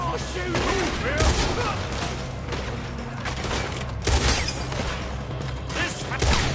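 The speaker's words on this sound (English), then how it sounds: "Why are they all shooting?" Gunfire crackles steadily through a Red Dead Redemption 2 shootout, dense volleys of overlapping shots with sharper louder bursts near the two-, four- and six-second marks, continuing throughout over a busy background.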